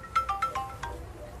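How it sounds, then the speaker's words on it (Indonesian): A mobile phone ringtone plays a quick series of bright electronic tones, about five notes in a row, fairly close against a faint room hiss. "Telepon bunyi."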